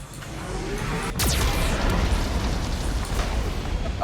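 A Geth cannon fires in Mass Effect 2, a loud, sustained blast with a rising whoosh that swells into a heavy, rumbling roar lasting several seconds.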